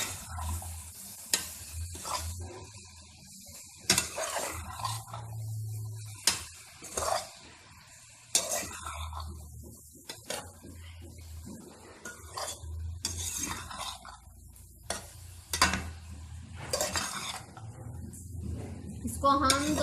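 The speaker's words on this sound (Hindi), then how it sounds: "इन सबको मिक्स कर लेंगे।" Chicken vegetable pasta with spices being stirred in a pan, with intermittent scraping and clinking of a utensil against the pan, low sizzling, and occasional voices underneath.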